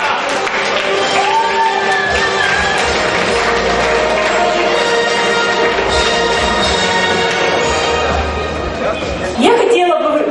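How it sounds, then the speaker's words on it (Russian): An indoor audience at a live event applauds and cheers in a sustained, even wash of sound, with music playing underneath and a brief louder swell near the end. "Ваши аплодисменты."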